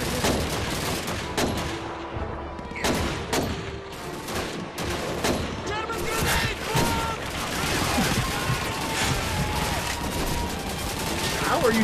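Rapid gunfire fills a Call of Duty 2 multiplayer match, with dense automatic bursts and single shots crackling nonstop alongside explosions, loud and continuous throughout.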